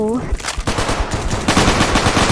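Rapid bursts of machine-gun fire from an enemy in a video game crackle in quick, dense volleys throughout, loud and close, with a brief tonal chime at the start.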